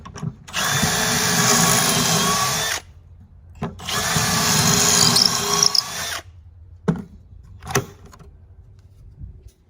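A power drill guided by a jig bores holes in scrap wood for a chicken roost, with two sustained whirring bursts of a couple of seconds each, followed by a few short clunks and handling knocks.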